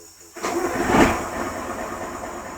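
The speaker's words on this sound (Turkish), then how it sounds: "Marşı çeviriyoruz." A TCDD rail maintenance vehicle's engine is started: a short cranking surge catches into a steady, close diesel rumble that settles to an idle.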